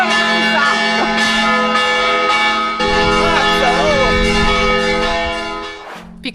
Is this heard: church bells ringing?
yes